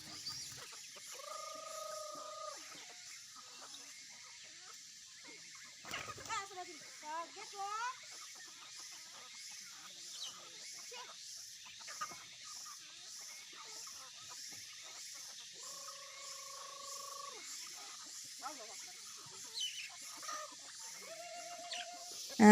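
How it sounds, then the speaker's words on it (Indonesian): Chickens and ducks at a hillside village home clucking and calling intermittently while eating rice bran feed, with steady insect-like background noise and brief rustling. "yang penting ayam sama bebeknya makan"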